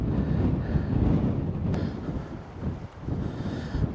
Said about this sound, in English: It's just too windy today.